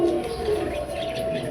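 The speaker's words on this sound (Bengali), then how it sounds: "আপনাদের ভাইয়া কবুতর বন্ধ করতেছে" Domestic pigeons coo softly and continuously on a rooftop loft as they are shut in for the night, a low steady murmur with no talk.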